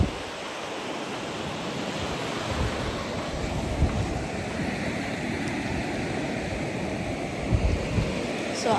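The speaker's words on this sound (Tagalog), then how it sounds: "Maliit po ang alon ngayon." Small ocean waves wash steadily onto the shore under a constant broadband rush of surf and wind, fairly loud and unbroken, with no speech.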